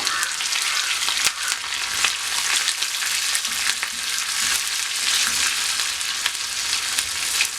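Mustard seeds, onions, dried chillies and curry leaves sizzle and crackle in hot oil for a rasam tempering, a close, dense, continuous frying hiss with scattered pops and no talking.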